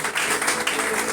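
A church congregation claps and cheers in a brief, dense wash of applause that fills a large room at steady loudness.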